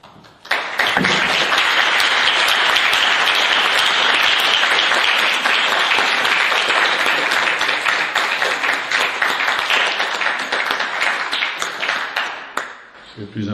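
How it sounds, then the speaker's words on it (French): A church congregation applauds to thank someone, a loud, full burst of clapping that starts abruptly, holds steady for about twelve seconds, then tapers off as a voice returns. "Alors je vous propose, pour le remercier, qu'on l'applaudisse."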